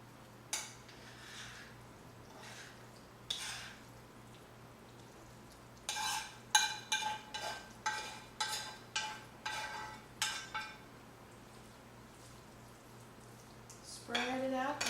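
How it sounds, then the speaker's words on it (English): Cooked orzo side dish being scooped and scraped from a pan into a baking casserole dish, a series of sharp utensil clinks and scrapes in quick succession after a quieter start, with a final longer scrape. "I'm going to take this and I'm going to put it in my baking casserole dish"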